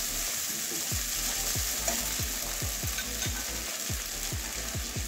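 Egg chowmein stirred and fried in a pan, with a steady sizzle under a dozen or so rhythmic scraping spatula strokes, close and even.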